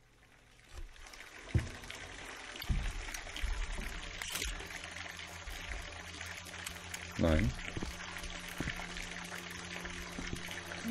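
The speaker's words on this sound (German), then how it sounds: "Die läuft mit Wasser voll." Water pouring into a room in the horror video game Visage, a steady rushing, trickling flow with occasional heavier splashes and thuds, while people talk over it.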